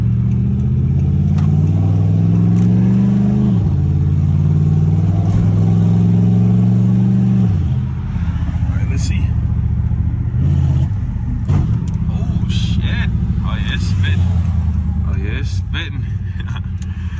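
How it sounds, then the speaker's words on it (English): A rebuilt Dodge Charger R/T engine fitted with a flame kit idles loudly and revs in rising, falling surges, with sharp popping backfire bursts breaking through later on; a voice talks over it at times. "So let's see if we can get some gunshots. You know what I'm saying? Get some backfire."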